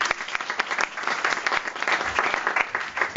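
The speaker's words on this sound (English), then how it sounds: "we'll give them a clap" An audience at a live awards event claps for an award recipient, brisk dense applause with distinct sharp claps scattered through it, steady and fairly close for the whole stretch.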